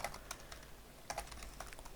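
Keys clatter on a computer keyboard as a mail message is typed on a Minecraft 1.8.7 survival server, quick uneven bursts of clicks with short pauses, close and fairly quiet, with no talking.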